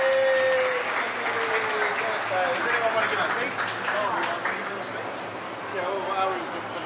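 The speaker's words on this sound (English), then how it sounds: "Let's give him a round of applause" A round of applause at a birthday and christening party: steady clapping from a room full of guests, with cheering and voices mixed in throughout.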